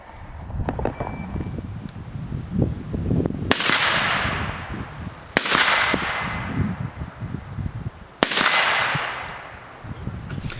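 Gunshots at an outdoor shooting range, rifle and handgun, ring out three times as sharp, loud cracks with decaying echoes, spaced a couple of seconds apart over steady wind and background rumble.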